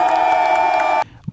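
Crowd in Equatorial Guinea chanting slogans for the ruling PDG party: a dense, loud wall of massed voices with a sustained tonal roar that cuts off abruptly after about a second, then a brief low thump.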